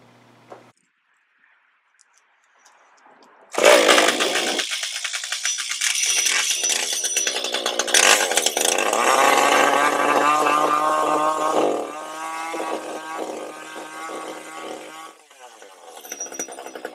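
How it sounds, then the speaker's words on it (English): A chainsaw roars to life after a quiet start and runs loud and steady, its pitch dipping and surging as it cuts, close by. "Any excuse to get out the chainsaw."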